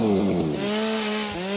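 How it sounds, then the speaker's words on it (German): Chainsaw revving while cutting trees in the VR video game Satisfactory: a loud, close buzzing engine whine that rises and dips in pitch, continuous with no talking. "Hol mal die Kettensäge raus, Freundchen."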